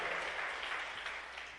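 Congregation clapping in a church, a steady wash of applause heard at a modest distance for a short stretch, without talking over it.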